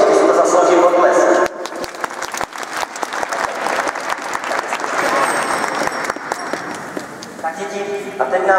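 An audience at a St. Nicholas celebration for children bursts into loud applause after speech, a dense crackle of many hands clapping with sharp individual claps standing out, continuing steadily to the end.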